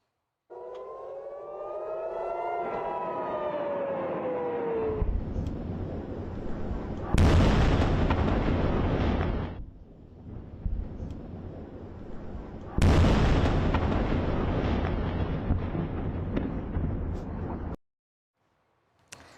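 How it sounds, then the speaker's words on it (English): Iranian missile strike in Tel Aviv: a wailing civil defense siren rises and falls, then two heavy explosion blasts follow with long rumbling roars between them. "dramatic video captured the moment of impact in Tel Aviv just this morning"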